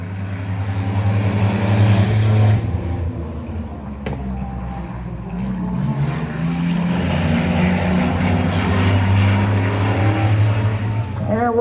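Race cars running side by side on an oval speedway roar past with loud, sustained engine drone that rises and falls, heard from the stands over a race announcer talking.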